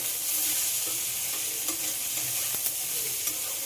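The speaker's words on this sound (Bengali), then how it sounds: "সবকিছুর সঙ্গে আলুটা খুব ভালোভাবে ভেজে নিতে হবে" Diced potatoes fry with ginger-garlic masala, giving a constant loud crackling sizzle with a few faint stirring taps and scrapes underneath.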